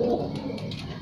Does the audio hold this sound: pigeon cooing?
yes